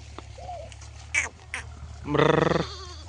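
A short, wavering bleat of a sheep rises near the end, preceded by a few scattered faint noises and knocks.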